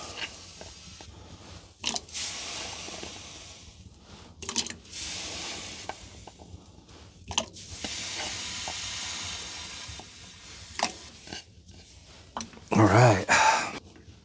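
Potatoes drop into a pan over a campfire on a sub-zero winter camping trip. Scattered hisses and sizzles come and go, with clattering near the end.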